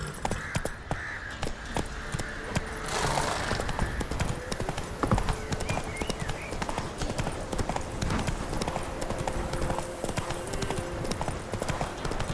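In The Witcher 3, the hooves of Roach the horse clip-clop in a steady rhythm throughout, joined by crow caws and a brief neigh, with game sounds in the background.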